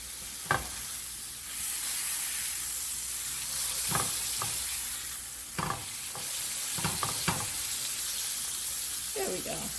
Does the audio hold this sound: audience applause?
no